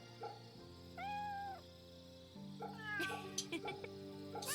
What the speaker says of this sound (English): There's another cat. Kitty! Pet the kitty!